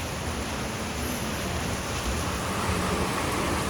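Heavy, continuous rain pours down in Dehradun as a dense, steady hiss that stays unbroken and fairly loud throughout.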